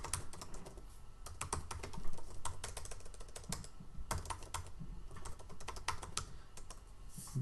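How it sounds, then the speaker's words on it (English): Someone types on a computer keyboard at a server, close and clear, with irregular quick key clicks and occasional heavier keystrokes throughout and no talking. "Go back to your server and type in this command."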